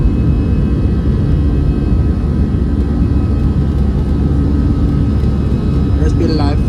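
Airliner engines at takeoff power during the takeoff roll on a Red Way flight make a loud, constant roar that fills the cabin throughout, with voices faintly audible under the noise.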